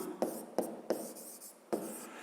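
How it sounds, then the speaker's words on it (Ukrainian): Pen writing a maths solution in a notebook during a fifth-grade lesson: four short scratchy strokes, each with a soft tap, spaced about a third of a second apart, close and quiet with no talk. "Давайте тоді записуємо розв'язання."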